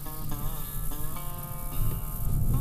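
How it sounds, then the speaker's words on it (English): Dense outdoor ambience of a South Louisiana coastal marsh delta: a continuous chorus of insects or frogs with a low rumble of wind and water, steady and immersive. "This is the sound of a thriving, living delta."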